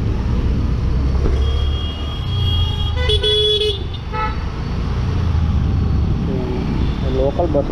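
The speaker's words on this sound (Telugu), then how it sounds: "లోకల్ బస్సులు ఇవి. లోకల్ బస్సులు కూడా తిరుగుతూ ఉంటాయి మనకు" Local buses and other vehicles move through road traffic in South Goa, producing a steady loud engine rumble and a couple of short horn blasts in the middle and near the end.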